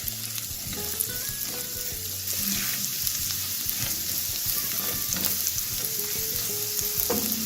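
Chopped garlic sizzles steadily in a hot pan, a constant crackling hiss with occasional light clinks of stirring, heard alone at moderate loudness.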